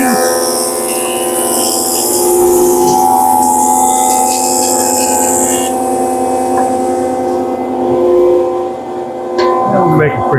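A woodworking machine mills lumber down to dimension, giving off a steady, droning mechanical hum with a bright whine on top. Near the end the sound drops off and shifts as the cut finishes.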